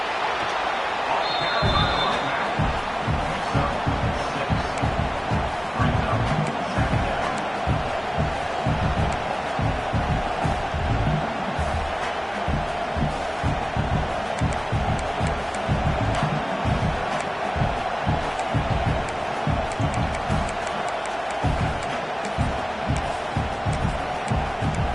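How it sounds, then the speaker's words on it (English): A stadium crowd at a football game roars steadily as the home defense tries for a red zone stop. The dense, sustained noise has a pulsing low rumble throughout. "This crowd is trying to inspire this defense to make a big red zone stop."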